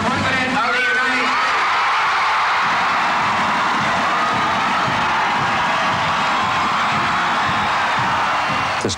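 A crowd at a US presidential campaign event cheers as the president is announced, producing a sustained, loud wash of applause and whoops that swells just after an announcer's voice and then holds steady.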